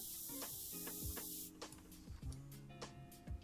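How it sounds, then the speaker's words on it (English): An airbrush sprays paint onto a scale model as a steady hiss during the first half, then cuts off into sporadic taps and faint mechanical ticks. "we're going to concentrate the spray right here in the middle of this, and then we'll just sort of radiate outwards to"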